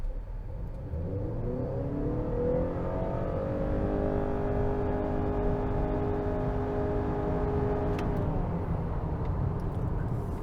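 A 2021 Honda Accord Hybrid in sport mode with traction control off accelerates hard from 0 to 60, its engine whirring and rising steadily in pitch over about eight seconds, close and continuous with no talk.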